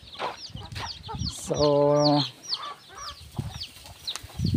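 Chickens cluck and chirp busily nearby while being fed, with one loud drawn-out squawk in the middle and a short spoken word at the start.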